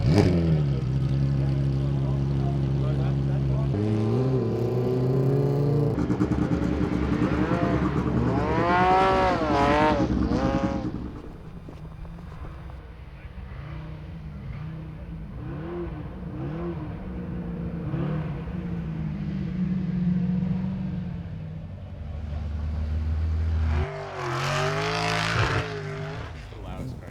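A hill climb race car idles and revs hard in a pit area, its engine rising and falling through sharp throttle blips over nearly half a minute, with people talking nearby and a final loud rev at the end.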